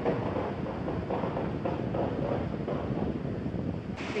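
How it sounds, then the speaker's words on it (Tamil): Strong coastal wind near the Pondicherry lighthouse, a steady loud rushing roar buffeting the microphone throughout, with surf-like wash mixed in and no voices. "அவ்வளோ காற்றடிக்குது, உங்களுக்கு வீடியோவில் பார்த்தாலே தெரியும்."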